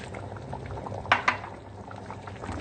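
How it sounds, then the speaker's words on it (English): Mutton dhalca curry coming up to a boil in a pot, a soft steady bubbling and simmering with a couple of sharper pops, heard close by and with no one speaking. "now it is coming up to boil"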